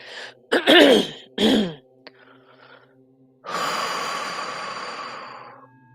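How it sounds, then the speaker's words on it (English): Deep breathing led during a guided relaxation, with a few sharp throat and breath sounds early on, then a long, loud, steady exhale hissing out for over two seconds, close and alone. "take a few deep breaths in"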